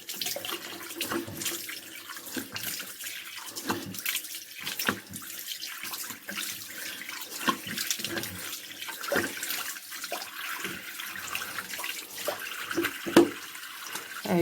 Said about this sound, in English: Then I'm going to wash my face first.